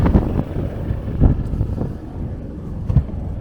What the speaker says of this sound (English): Another noisy ferry, so let's go and have a look.